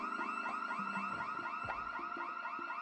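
A car alarm in the zombie survival game Project Zomboid cycles through a steady repeating electronic whooping pattern, continuous and fairly loud, with no voices over it.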